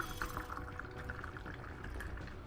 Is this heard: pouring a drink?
yes